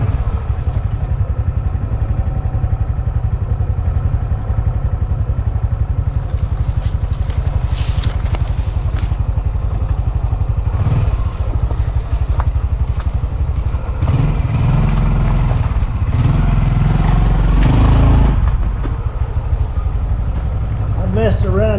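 A Honda CT125 motorcycle engine chugs and revs while riding in winter, loud and close, with rattling clatter and a person talking at times.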